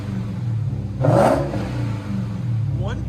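A Dodge Charger Hellcat with its supercharged 6.2L Hemi V8 and Vibrant resonators, mids and 5-inch tips blips the throttle once in a short, loud rev that swells and falls back to a steady idle rumble.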